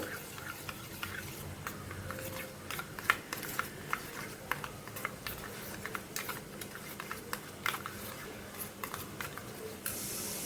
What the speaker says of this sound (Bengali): এটা ভালো করে ফেটিয়ে নেব